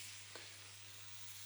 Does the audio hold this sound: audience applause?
no